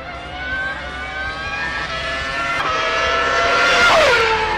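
A West McLaren Formula 1 race car screams at high revs on track, a loud sustained engine howl climbing through gears with a sharp shift near the end.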